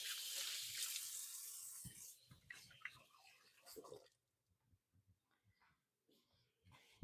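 Tap water runs into a kitchen sink as hands are washed, a steady close splash for a few seconds that then stops, followed by soft drips and quiet handling noises.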